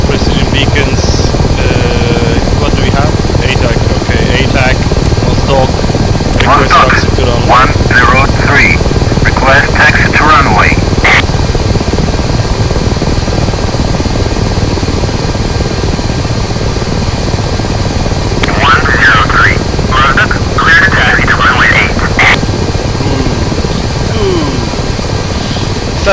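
Ka-50 helicopter rotor and engine noise from a flight simulator game, a loud steady drone running throughout with people talking over it in two stretches.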